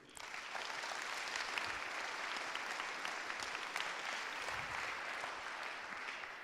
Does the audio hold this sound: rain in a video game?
no